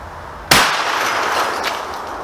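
A shotgun slug strikes a pane of tempered glass with one sudden loud crack, and a long bright crash of shattering glass follows, with a faint tinkle of falling pieces near the end.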